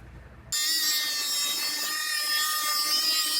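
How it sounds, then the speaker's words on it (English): A blade cuts steadily along the inside edge of a strip of tape, starting abruptly after half a second and then running as a loud, continuous, close rasping with no talk. "I'm gonna cut right on the inside edge of this tape"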